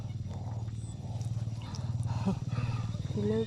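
Banded bullfrogs calling outdoors in rural Laos during rain, a steady low pulsing chorus of croaks running throughout, with faint background voices.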